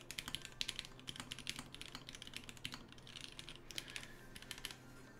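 Typing on an acrylic TGR Alice split keyboard fitted with retooled black switches: a steady run of close, crisp keystroke clacks with uneven bursts and short pauses, no talking.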